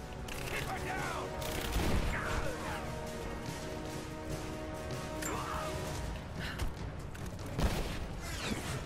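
Gunfire and grenade blasts from the video game Rise of the Tomb Raider, a dense, continuous barrage of sharp shots and crashing bursts with heavier booms around the second and seventh-to-eighth seconds, loud throughout.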